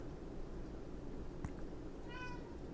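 A pet cat meows once, a short clear call with a rising harmonic stack, heard indoors over a steady low background hum with a faint click just before.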